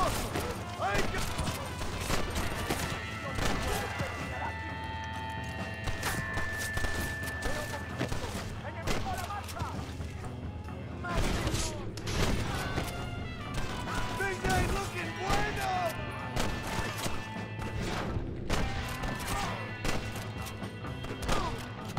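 Repeated gunshots and volleys in the Western game Red Dead Redemption crack out across a long stretch, mixed with loud in-game shouting and voices.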